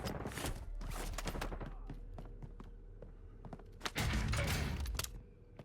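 Gunfire in Call of Duty Warzone on the Fortune's Keep map, with rapid bursts of shots, thumps and mechanical clicks, loudest near the end, under faint game ambience.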